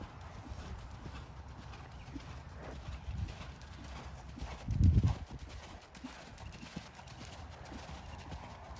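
A horse named Murphy canters in a dressage schooling session, its hoofbeats a soft rhythmic clip-clop in the distance, with one heavier thud or snort midway.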